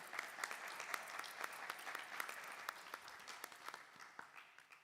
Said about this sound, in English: So a big round of applause for Mother